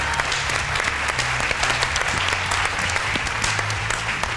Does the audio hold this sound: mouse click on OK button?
no